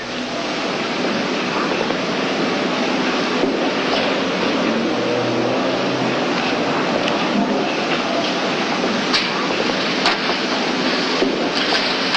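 A passenger train rolls along in a steady, continuous rumble with a faint rhythmic clatter of the cars, heard close and fairly loud with no voices.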